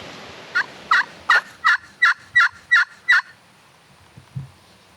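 A wild turkey tom gobbles in answer to calls in a windy spring woodland, a rapid string of about eight clear, rattling notes at moderate distance, followed by a faint low sound.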